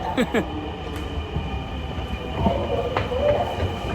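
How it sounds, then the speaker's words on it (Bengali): A metro train rumbles and clatters nearby as it arrives at a station, with a faint wheel squeal and some background voices. "ট্রেন চলে আসছে"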